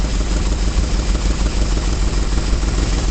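Close, continuous idle of a carbureted engine with a vacuum leak, low rough rumble with uneven skipping pulses and a slight clatter, no talking.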